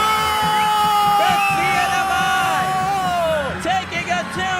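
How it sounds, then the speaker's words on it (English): A crowd at a women's under-23 football match erupts in loud whoops, yells and cheering after a CNMI goal against Guam, with a commentator talking over the noise. "CNMI taking a 2-0 lead against the Guam U23s, and the crowd is going wild."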